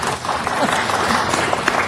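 A crowd at a city council meeting claps in dense, loud, continuous applause, with voices mixed in throughout.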